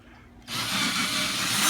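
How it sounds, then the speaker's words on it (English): A half-inch regular power drill bores into a Yamaha F-325 acoustic guitar, starting abruptly after a brief quiet moment and then whining steadily, loud and close. "I'm just going to hit this with a full 1/2 inch regular drill"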